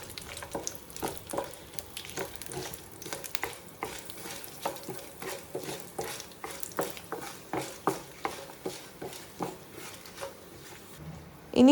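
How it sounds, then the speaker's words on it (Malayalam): Mustard seeds, urad dal, cashews and dried chillies frying in hot oil for Kerala-style milk upma, a soft steady sizzle broken by repeated scraping stirs, close and clear. "ഒരു ടീസ്പൂൺ ഉഴുന്നും കുറച്ച് കശുവണ്ടിയും വറ്റൽമുളകും കൂടെ ഇട്ട് ഒന്ന് വറുത്തെടുക്കണം."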